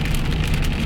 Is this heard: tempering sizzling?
no